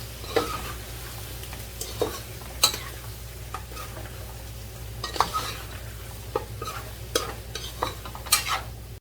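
A spoon stirs chili powder and garam masala in a sizzling pan while cooking tandoori chicken, with soft scraping strokes and occasional sharp clinks against the metal over a low, steady frying hiss.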